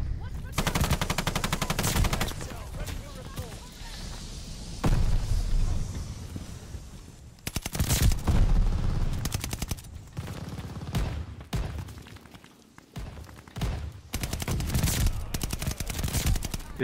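Rapid automatic gunfire from KG M40 and Whitley rifles in Call of Duty Vanguard Warzone, loud bursts and sustained streams of shots with brief pauses between engagements.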